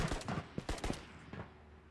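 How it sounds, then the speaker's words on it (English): A few quiet, distant gunshot cracks from sniper fire in the VR shooter Ghosts of Tabor, spaced irregularly and fading out toward the end. "They're sniping again."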